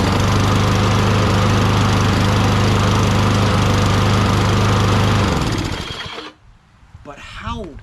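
A Toro Recycler self-propelled lawn mower with a 6.5 HP Tecumseh engine runs loud and steady for about five seconds, then dies away to faint sputters. Brief talk follows at the end.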